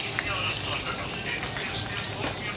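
Chopped onions frying in a pan for biryani, a constant close sizzle and bubbling hiss running beneath a person speaking.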